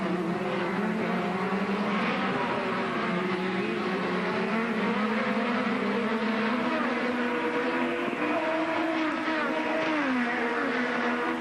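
IndyCar race cars at the 2012 Honda Grand Prix of St. Petersburg drone continuously at a distance, their engine notes rising and falling in overlapping whines throughout.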